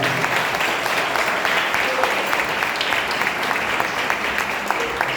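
Sustained applause from an audience at a church youth congress in Miraí, Minas Gerais, honoring the pastors, steady and dense clapping filling the room without a break.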